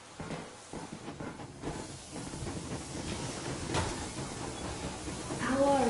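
A steam locomotive pulls away in the post-apocalyptic shooter Metro Exodus. A steady hiss of steam and a rumbling rail clatter build up, a sharp vent of steam bursts out midway, and a rising whistle-like tone sounds at the end.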